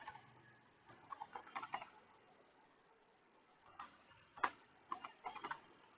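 Quiet typing on a computer keyboard comes in short bursts of rapid key clicks separated by pauses.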